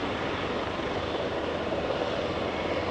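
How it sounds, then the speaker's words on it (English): Helicopter flying somewhere near Aberdeen airport, a distant, steady broadband drone with a faint throbbing, constant and unbroken, no voices. "I can hear another helicopter strumming somewhere."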